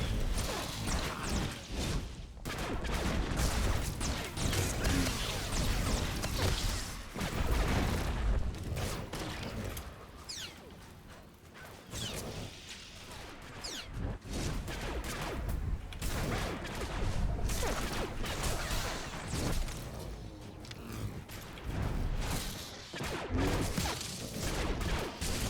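Turrets open fire during a Star Wars: The Old Republic Firefrost boss fight, a dense, continuous barrage of blasts, booms and whooshes with steady loudness throughout and no talking.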